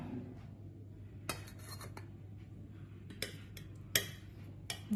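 A metal spoon scoops freshly cooked vegetarian paneer from a dish, giving a few sharp scattered clinks against the serving ware over a quiet room hum.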